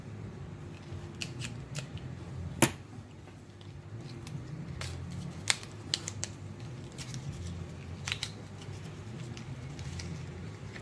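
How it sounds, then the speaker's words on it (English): Scissors snipping open a small plastic packet of cosmetic glitter from a gift set, a few crisp close cuts and crinkles against quiet room noise. "Let me cut this one."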